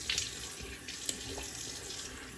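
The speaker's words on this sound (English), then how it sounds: "just rinsing off the alum here" Tap water running over an alum block as it is rinsed after a shave, a steady splashing flow with a small clink partway through, fairly quiet and close.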